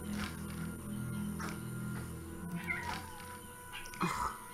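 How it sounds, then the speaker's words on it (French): A cat meowing in The Witcher, a few soft mews rising over quiet game ambience and background music, fairly faint. "Et voilà, mon chat, ça faisait longtemps que vous ne l'aviez pas entendu."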